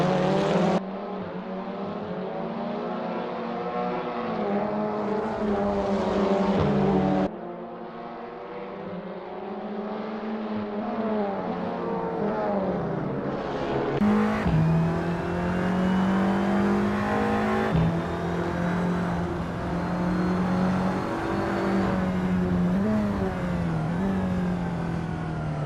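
Audi TT Cup race cars lap Circuit Charade in Assetto Corsa, engines droning loudly and continuously with rising and falling pitch as they accelerate and shift, several cars overlapping closely.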